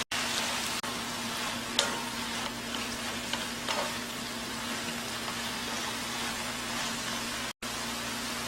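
Bean sprouts stir-frying in a pan for a Korean side dish give a steady, faint sizzle with soft clicks and scrapes of stirring, with no voices.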